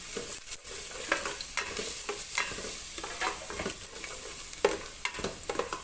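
Garlic sautéing in hot oil for salmon-head sinigang, a steady close crackling sizzle with repeated quick stirring scrapes and no talk.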